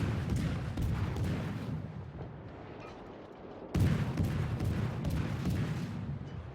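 Naval guns fire in the World of Warships video game, a Mahan destroyer finishing off an enemy carrier: deep, rumbling booms in rolling salvos, with a dip in the middle before a fresh heavy blast, and no talking.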